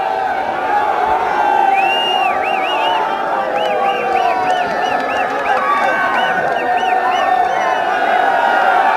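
A dense election-victory crowd in Churu roars continuously, with shrill hoots and whistles rising above the din, loud and close throughout with no pauses.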